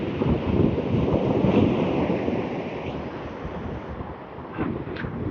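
A southeasterly coastal breeze buffets steadily across the shore, a broad rushing noise that swells and eases over several seconds, with surf texture mixed in.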